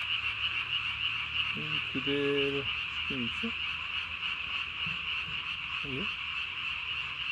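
Green tree frogs croak at night in short rasping calls, several bursts close by over a constant high insect drone, while someone speaks briefly.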